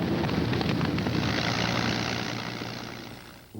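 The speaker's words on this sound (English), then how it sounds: "Spitfires and Hurricanes rise like hornets to meet the invaders" Spitfire and Hurricane fighter planes flying in wartime, a loud continuous roar of propeller aircraft engines that fades slightly toward the end, without talk.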